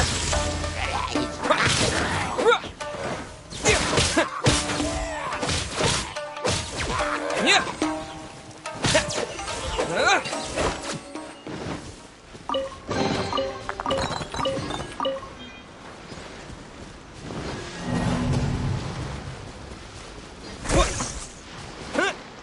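Thunder attack skill effects from the video game Genshin Impact crash and whack in quick bursts, layered with whooshes and clinks, loud and dense throughout.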